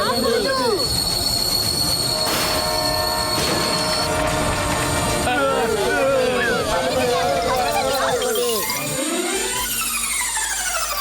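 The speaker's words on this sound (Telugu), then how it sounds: "ట్రైన్ ఆగిపోయింది" Cartoon train braking to a halt, with loud metallic wheel squeals and screeching over rumbling carriages that die away near the end, while voices speak over it.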